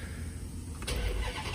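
A Dodge Magnum SRT8 wagon fitted with a swapped-in Hellcat engine cranks and fires up close by, its low rumble swelling into a loud, steady run after a moment of quiet.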